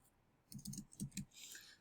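A computer mouse gives a quick cluster of faint, close clicks, four or five light taps in under a second against a quiet background.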